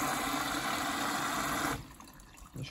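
A washing machine begins its fill, water rushing in steadily and loudly for nearly two seconds before cutting off, leaving quieter trickles and a small knock near the end.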